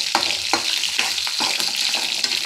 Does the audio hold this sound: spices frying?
yes